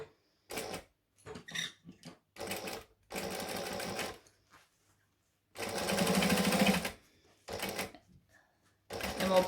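A sewing machine stitching a clutch bag runs in several loud, close bursts of rapid mechanical chatter, some short and some several seconds long, separated by quiet pauses.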